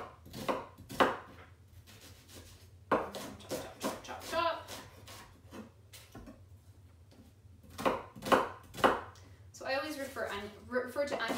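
A knife chops vegetables on a cutting board in a home kitchen, with sharp, irregular taps and strokes mixed in with a voice talking throughout.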